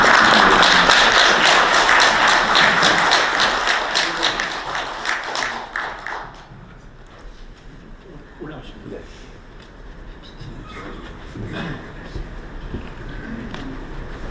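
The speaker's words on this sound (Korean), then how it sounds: "큰 박수로 우리 한 원장님." Audience applause at a Korean forum gathering, dense and loud clapping with taps at first, then fading after about six seconds into scattered claps and room noise.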